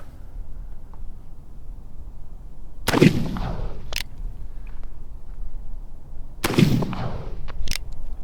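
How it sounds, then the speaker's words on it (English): Uberti Remington New Model Army black-powder revolver firing round ball outdoors, two loud sharp shots a few seconds apart, each with a ringing echo tail. "I'm just kind of getting a feel with the round ball or how it's shooting"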